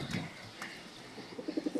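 Pigeons cooing in a soft, repeated series of low throaty calls close by, with a few sharper chirps early on, and no speech over them.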